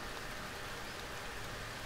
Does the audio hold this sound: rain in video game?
yes